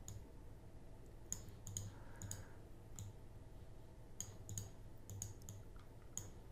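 Sharp computer mouse clicks, single and in quick pairs, spaced irregularly over a steady low hum while someone formats text in a document program, with no talking.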